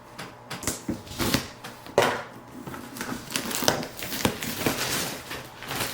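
A knife slices open a cardboard shipping box holding a liquid-cooling AIO cooler, giving a close series of irregular scrapes, rips and crinkly taps with no talking.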